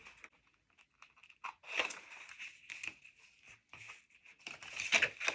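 Small snipping scissors cut partway into paper during a papercraft session, giving a series of quiet crisp snips and rustling crinkles in irregular bursts, close and fairly faint.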